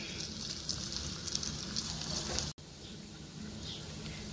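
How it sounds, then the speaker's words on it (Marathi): Rolled snacks deep-frying one batch at a time in hot oil over a low flame, giving a steady, close bubbling sizzle with fine crackles and a brief cut-out partway through. "ते आपल्याला मंद आचेवरती सोनेरी रंग येईपर्यंत तळून घ्यायचे आहे"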